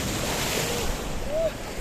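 Sea waves and surf wash along the Kato Paphos seafront promenade in Cyprus, a steady broadband rush with wind noise across the microphone and no speech.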